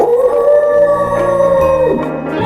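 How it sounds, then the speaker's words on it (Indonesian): A wolf lets out one long, loud, sustained howl that slowly rises and falls over a few seconds, following a flock of sheep into a forest. "Suara itu berasal dari serigala yang mengikuti sejak biri-biri mulai masuk ke dalam hutan."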